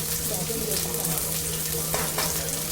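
Vegetable mixture with fresh green peas frying and being stirred in oil for veg pulao, a steady close sizzle with a couple of brief scraping stir strokes near the end, no voices.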